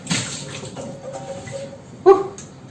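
Water poured into a cooking pot for boiling beans, a brief gush at the start and another louder splash near the end over quiet background.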